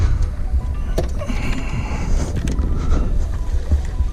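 A superyacht crew spins a boat around on open water: a steady, loud low rumble of engine and churning water, heavily buffeted by wind on the microphone, with no talking.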